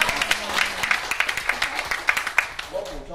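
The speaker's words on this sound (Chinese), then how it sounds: "好，再次给他热烈掌声。" Audience applause at a motivational speaking seminar, a burst of clapping from a seated crowd that continues steadily for several seconds and thins out near the end.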